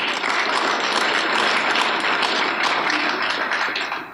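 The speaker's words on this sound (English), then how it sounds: "Thank God, you are clapping." An audience claps during a health and nutrition lecture: a dense, steady wash of many hands that holds evenly for several seconds and then begins to ease off.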